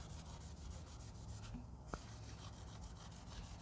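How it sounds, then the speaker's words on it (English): Glass cleaner and dirt being rubbed into rust, a faint continuous gritty scrubbing with rhythmic strokes, close and quiet, with a single small tap partway through and no talking. "you sprinkle some of this dirt on there, and basically you're just working that in there, and that's what's going to take all your rust off"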